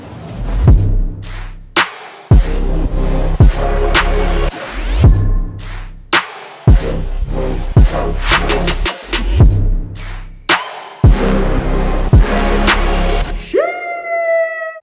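Drop of an electronic track, with heavy processed 808 bass hits pounding under sharp drum transients in a steady, loud groove that briefly cuts out twice, ending on a rising synth swell.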